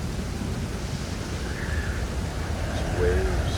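Stormy sea waves in the survival game Stranded Deep: a steady, loud broadband rush of surf and wind that swells slightly toward the end, with no one speaking.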